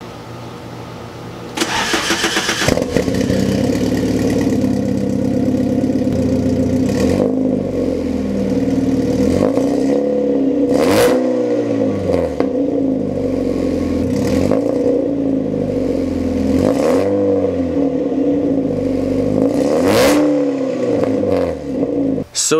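A Volkswagen Jetta 2.0 four-cylinder with an aftermarket exhaust cranks and fires up, then settles into a loud steady idle broken by a series of sharp revs that rise and fall, close and alone.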